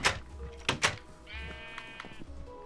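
A Minecraft sheep bleats once in a drawn-out, wavering cry, set among other game noises and thumps, close and fairly clear.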